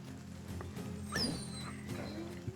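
A dog attacking and then whimpering in the Battle Brothers video game, with a sharp yelp and whine rising out of a low, steady game background and faint clatter around it.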